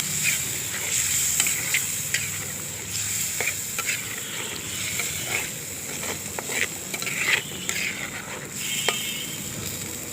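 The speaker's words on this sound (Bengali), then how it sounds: "এবার আমি ভালোভাবে নেড়ে নিব।" Chicken sizzles steadily in a frying pan with water just added for curry, while a utensil stirs and scrapes with irregular clinks and scrapes over the continuous hiss.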